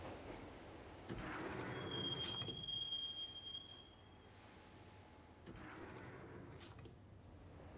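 A train ride in the Max Payne video game: a steady rumbling carriage with a thin, sustained wheel squeal rising partway through, then the clatter continuing at a lower level before swelling again.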